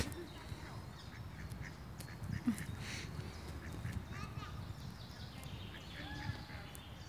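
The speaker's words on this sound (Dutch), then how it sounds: "O jee, daar komen twee eendjes aangelopen." Two ducks quack as they walk up across grass on a sunny day, short nasal calls scattered over steady outdoor background noise, with people talking nearby.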